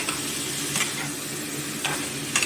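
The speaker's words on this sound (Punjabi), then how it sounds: "ਹੁਣ ਅਸੀਂ ਬੋਇਲ ਕੀਤੀ ਹੋਈ ਮਸ਼ਰੂਮ ਵੀ ਵਿੱਚ ਸੁੱਟਾਂਗੇ" Boiled mushrooms go into a hot pan and are stirred, a soft frying hiss broken by a few brief scraping strokes of the utensil, with no voices.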